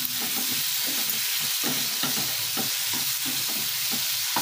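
Tomatoes frying in masala for an Odia drumstick and potato curry, a dense continuous sizzle with steady rhythmic spoon scraping and stirring close up.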